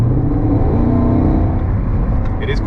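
A Porsche Panamera four-door engine with its exhaust valves open roars loudly and steadily from close by, a deep sustained rumble heard from inside the car while people talk over it.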